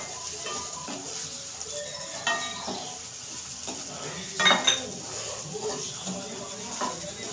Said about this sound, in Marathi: अशी चांगली परतत राहायची